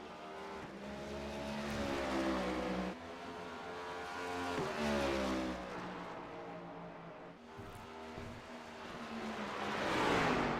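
A Chevy Camaro race car laps Sonoma Raceway in a racing sim, its engine rising and falling through repeated upshifts and downshifts, with brief tire squeal on corners, steady and fairly close with no talk.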